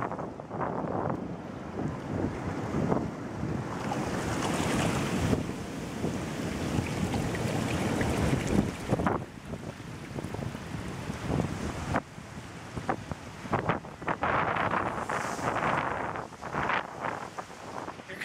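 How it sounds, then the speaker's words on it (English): Ocean waves breaking on the rocky shore at Big Sur, a broad continuous roar of surf with heavy wind buffeting the microphone, loud and close, with surges rising and falling over the length. "Some good waves."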